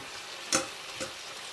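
Bacon and beans fry quietly in a pan, with a faint steady sizzle broken by two soft scraping stirs about half a second apart.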